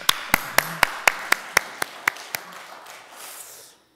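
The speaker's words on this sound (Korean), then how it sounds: "한번 박수 할까요?" A church congregation claps in a short rhythmic burst of about a dozen sharp, evenly spaced claps that fade out over a few seconds.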